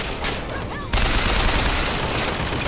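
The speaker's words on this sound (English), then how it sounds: "there's also a machine gun somewhere" Loud, dense gunfire in BioShock Infinite, a sustained burst of rapid machine gun shots that jumps louder about a second in and carries on steadily with chaotic combat noise and no talking.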